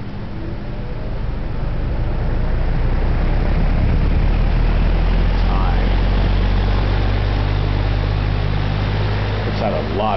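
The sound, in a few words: Atkins Breeze All box fan running at high speed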